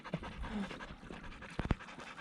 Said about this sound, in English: that's a happy dog